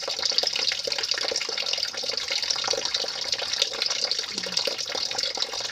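Water splashing and pouring steadily during an outdoor bath beside a house, a continuous close hiss of running water with small irregular splashes and no talk.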